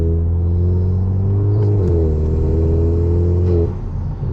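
VW Golf MK7 GTI engine fitted with a Forge induction kit, heard close and loud from inside the car as a deep droning rumble with a steady intake note that rises slightly and then settles.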